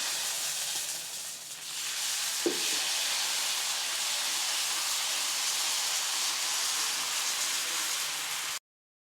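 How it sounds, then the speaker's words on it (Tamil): Egg dosa batter hits a hot dosa griddle with a steady, loud sizzling hiss that holds evenly for several seconds, broken by one brief clack, then cuts off abruptly. "இப்போ கல் காஞ்சிருச்சு நம்ம தோசை ஊற்றிடலாம்"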